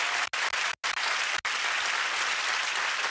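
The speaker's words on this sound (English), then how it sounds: "Give them a round of applause, everybody." Studio audience applause on a British TV game show, a full, even burst of clapping from a crowd that carries on steadily, broken by a few brief cuts near the start.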